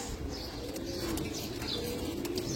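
Domestic pigeons, including a jelly pigeon, coo in low, throaty, overlapping murmurs close by, a quiet continuous burbling over soft background hiss with no talking.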